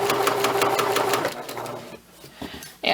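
A sewing machine runs a princess seam in quick rhythmic bursts for just over a second, then slows and trails off into quieter handling sounds and a brief rustle.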